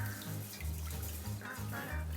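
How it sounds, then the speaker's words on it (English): Water swishes and sloshes over raw rice as it is stirred in one direction for washing before cooking chicken rice, a series of close, rhythmic splashing strokes with no talking. "Put in some water and stir on one direction here."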